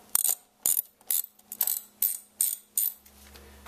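Ratchet turning with an 8mm tool to remove the single top bolt holding the spring guard on a motorcycle shock, seven quick, crisp clicking bursts in a steady rhythm, close and alone.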